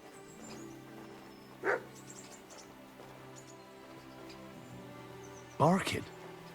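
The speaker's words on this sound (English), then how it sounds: "Barking." In the video game Kingdom Come: Deliverance II, a dog gives two short barks several seconds apart, moderately loud over a quiet ambient game background.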